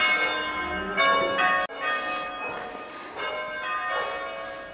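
A church bell rings with repeated resonant strikes, each swelling and lingering into the next, heard from inside an empty abandoned house in Italy.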